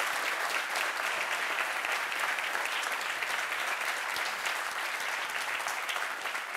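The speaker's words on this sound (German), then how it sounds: "Applaus für euch, danke, dass ihr alle gekommen seid." Steady, dense applause from a live studio audience at a German football talk show in Cologne, filling the room evenly and continuously without any break or voices.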